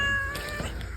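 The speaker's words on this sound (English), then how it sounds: "Oh, look at the kitty cats" A cat gives a single drawn-out, wailing meow, loud and close, lasting about a second.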